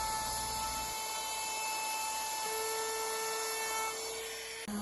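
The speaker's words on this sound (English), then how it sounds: "A larger router bit was used on the handle to give it a little bit more comfortable grip." A router fitted with a larger bit shapes the handle of a pecan wood serving board, giving off a loud, steady high-pitched whine with a lower motor hum. It runs nonstop for about five seconds before cutting off at the very end.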